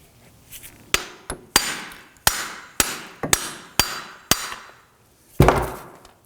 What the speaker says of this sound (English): use my hammer, and I want to go ahead and smack the wheel hub out of our backing plate.